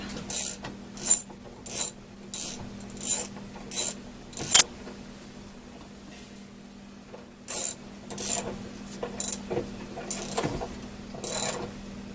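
A ratchet wrench tightens the agitator bolt inside a washing machine, its clicking coming in quick short bursts with a pause between two rounds, close up with a steady hum underneath.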